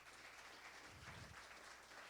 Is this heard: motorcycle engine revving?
no